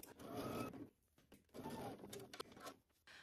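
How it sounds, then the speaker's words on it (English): A home sewing machine stitches a garment seam with backstitching. Its faint, rapid whirring comes in short bursts separated by brief pauses. "I'm gonna backstitch at the beginning and again at that dot."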